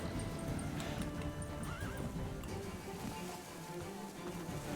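Roach the horse galloping in The Witcher 3 through a dead town in Velen's wetlands, hooves clip-clopping steadily with a brief whinny, under dense game ambience and music.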